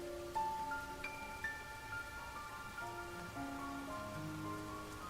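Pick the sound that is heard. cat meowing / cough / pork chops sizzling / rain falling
rain falling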